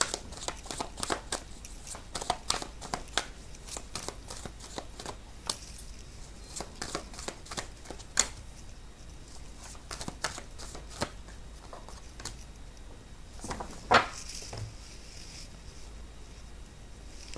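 A deck of tarot cards is shuffled by hand, producing rapid, soft, riffling flicks and slaps in a steady rhythm, close and fairly quiet, continuing for a long stretch with occasional louder snaps.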